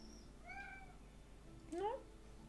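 A dramatic domestic cat gives two close meows, a rising drawn-out call followed by a louder, sharper one, in a quiet indoor room with low background hum.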